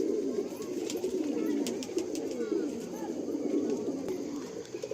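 Andhra Kalanka pigeons coo softly and continuously, their low, throaty calls overlapping in a close, busy flock murmur, with faint sharper chirps and ticks scattered above.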